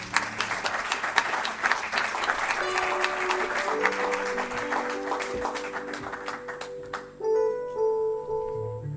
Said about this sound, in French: je vais vous demander d'acclamer Monsieur Armand Mavinga, s'il vous plaît